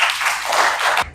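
A classroom of students claps briefly for a classmate in an Islamic law lesson, a short burst of dense applause that cuts off abruptly after about a second.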